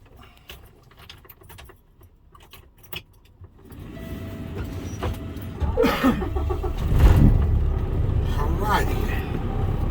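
A truck engine cranks and starts in a cab, a rattle of keys and clicks first, then the engine catches and settles into a steady low idle that grows louder, with a voice speaking over it.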